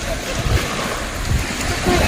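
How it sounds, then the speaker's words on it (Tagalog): Sea waves washing near a small boat at a beach in Bicol, a rough continuous surf wash with low rumbling swells and wind buffeting the microphone. "Ayun, may bangka, oh."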